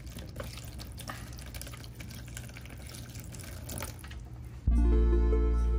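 Water poured into a soaking bath for a black-breasted leaf turtle: a faint trickle and splashing against a low background hum, then louder, steadier filling or tap noise that rises abruptly near the end.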